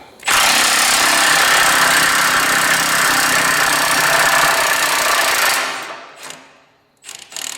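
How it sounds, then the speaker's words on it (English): Impact wrench unbolting parts on a Ford 5610 tractor: a loud, continuous buzzing rattle for about five seconds, then it stops and a few short, quieter bursts follow. "Get the old impact wrench on low."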